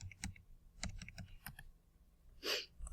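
Numbers are typed on a computer keyboard in short, close bursts of quiet key taps, with a brief pause before a final few clicks.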